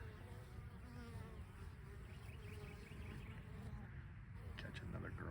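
Honeybees buzz steadily around a hive in an April apiary, a dense continuous drone of many insects close by, with faint talk mixed underneath.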